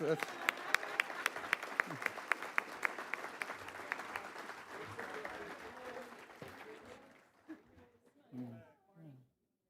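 Clapping from an audience at a college awards ceremony, loud and dense at first with sharp individual claps, then tapering off after about six seconds as a few voices and low sounds emerge.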